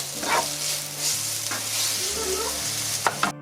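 Food fries in a pan as a light dusting of sugar caramelizes over it, giving a steady sizzle with a few scraping stirs and soft clicks, close and continuous with no voices.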